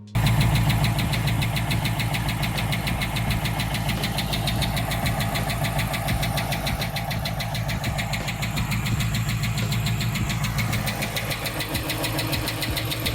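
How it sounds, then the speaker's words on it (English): A 5.7 HEMI V8 in a high-mileage Dodge Durango with 370k km idles up close, a rapid steady ticking riding over the even engine hum, continuous and alone throughout. "the HEMI Tick was still there"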